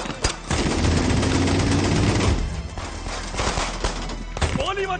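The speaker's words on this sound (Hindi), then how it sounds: "गोली चलाना बंद करो, सामने एक बच्चा आ गया है।" A burst of rapid gunfire rattles loudly through a Hindi-dubbed action scene from The Amazing Spider-Man 2, a dense volley lasting a couple of seconds before trailing off into thuds and shouting voices.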